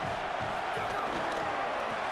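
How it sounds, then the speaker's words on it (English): Stadium crowd noise in an NCAA college football video game during a goal-to-go defensive stand: a steady, dense roar of cheering throughout, without distinct peaks. "This defense needing this energy from the crowd in a goal-to-go situation"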